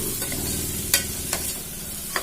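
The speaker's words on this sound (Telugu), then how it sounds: "2 స్పూన్ల అల్లం వెల్లుల్లి పేస్ట్ కూడా వేసుకుని ఇది కూడా పచ్చివాసన లేకుండా ఫ్రై చేసుకోవాలి" Ginger garlic paste frying in a pan for chicken curry, with a low steady sizzle and a few sharp scrapes of a spoon against the pan, close and without talk.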